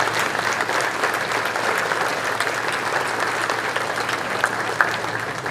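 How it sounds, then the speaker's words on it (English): A crowd claps steadily for Hall of Fame inductees at a school dinner, a dense, even wash of applause from a roomful of people, sustained and fairly loud with no talk on top. "Let's give them a round of applause."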